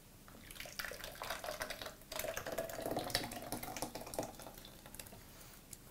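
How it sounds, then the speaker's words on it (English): Thickened homemade pizza sauce is poured carefully into a container, giving a soft, close, quiet trickling and glugging that comes in two stretches, with no talking. "I'm gonna pour it now carefully into this."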